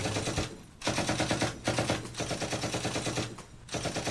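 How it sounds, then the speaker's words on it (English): Rapid bursts of gunfire from a sound effect in a homemade low-budget video, looping continuously with brief dips, loud and dense throughout with no talk. "Young nasty man sees Wonderboy, and so starts shooting at him"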